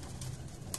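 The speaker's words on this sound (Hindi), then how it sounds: "बहुत ही आला कबूतर है ये भी" Pigeons coo softly from a rooftop pigeon-keeping enclosure, a low, steady murmur filling the short moment with no talk over it.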